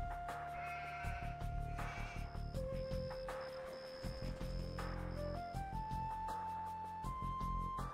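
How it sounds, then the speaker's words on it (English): Sheep bleating in the video game Age of Empires II, several repeated bleats over a steady layer of game music and ambience, no talk. "Yay, sheeps. Do not kill the sheeps."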